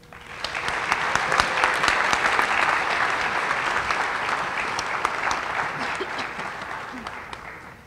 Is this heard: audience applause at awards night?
yes